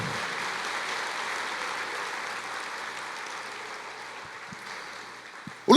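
A church congregation applauding, a broad steady wash of clapping that slowly fades over several seconds before a sudden louder sound at the very end.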